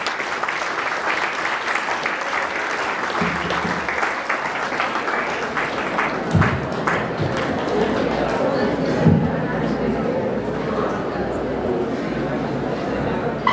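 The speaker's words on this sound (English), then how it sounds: "Big round of applause." Audience at a college event applauds to welcome a speaker on stage, a steady dense wash of clapping lasting throughout, with crowd murmur and some voices mixed in underneath.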